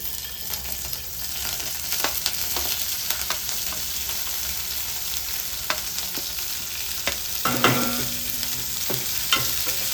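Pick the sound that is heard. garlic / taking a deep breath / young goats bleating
garlic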